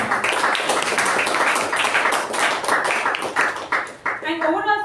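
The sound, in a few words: meeting audience applauding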